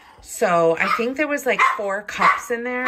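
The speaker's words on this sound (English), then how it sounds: "Oh, sorry about the dogs, you guys." Dogs bark and yip in a home kitchen while someone talks over them about a crockpot chicken dish, the barking mixed closely under her voice across the short stretch.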